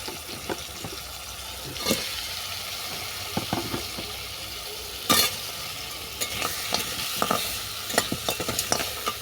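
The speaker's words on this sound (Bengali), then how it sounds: "এর সঙ্গে তুলে দিচ্ছি কাঁকড়া" Crabs frying in a pan for a crab curry with thankuni leaves, a steady hiss of sizzling oil broken by sharp clacks and scrapes of stirring, the clatter growing busier toward the end; no voices.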